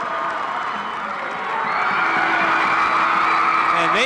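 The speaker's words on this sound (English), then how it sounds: "They are a happy crowd." Happy crowd cheering and whooping after a girls high school basketball tournament final, the 2001 Greater Middlesex Conference title game won by Bishop Ahr; a loud, sustained roar of fans and shouting swelling midway and holding steady.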